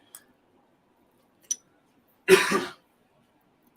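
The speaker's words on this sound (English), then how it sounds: "I do apologize if I continually clear my throat" One short, harsh throat clearing close by, set between a few faint clicks in otherwise quiet surroundings.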